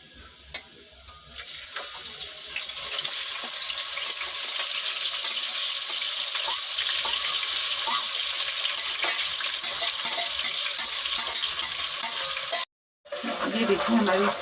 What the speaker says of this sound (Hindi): फिर हम पत्ता वाली प्याज अपनी थोड़ी सी फ्राई करते हैं।